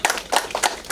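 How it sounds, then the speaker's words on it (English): Students in a classroom give a short, sparse burst of clapping, a few scattered claps spaced unevenly across under a second, fairly faint and thin rather than a full round of applause. "Give a big clap."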